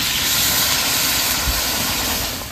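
Water poured into a hot pan of fried potatoes and spices gives a loud, continuous hissing sizzle that stays steady and fades slightly at the end.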